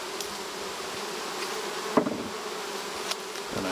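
Honeybees buzz steadily around an open hive during fall hive work, a continuous close insect drone with a few sharp knocks of equipment against wooden frames.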